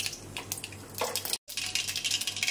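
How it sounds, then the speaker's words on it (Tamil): Mustard seeds spluttering in hot oil in a pan while cooking drumstick masala, a dense crackling hiss of small pops across the clip, briefly cut to silence partway through, with no voices. "கடுகு பொரிஞ்சிடுச்சு"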